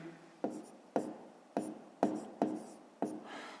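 Writing by hand during a fifth-grade math lesson: six quick taps of a pen or chalk at a fairly regular pace, each trailing into a brief scratch, close and soft, with no voices.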